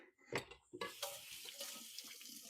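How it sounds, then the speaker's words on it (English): Kitchen tap water runs into a sink as hands are rinsed, a steady close splashing hiss after a brief clatter at the start, fairly quiet and with no talking. "Then I'll give my hands a quick rinse."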